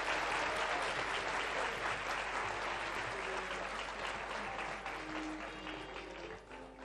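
Steady, dense applause from an audience greets students walking onto the stage at a school art competition award ceremony, the clapping continuing evenly at a moderate distance over a low background hum before fading slightly.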